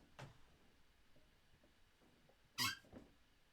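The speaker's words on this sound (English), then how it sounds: "the squeak's just come back to me chair, it hasn't squeaked for ages" An indoor chair gives a sharp squeak about two and a half seconds in, with a fainter creak near the start and quiet shuffling between, no talking.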